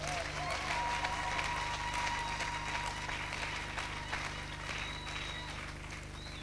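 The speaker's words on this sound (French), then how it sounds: "Vous pouvez acclamer en ajoutant les Amen." Church congregation applauding steadily, a sustained wash of clapping from the crowd at moderate distance, with faint voices underneath.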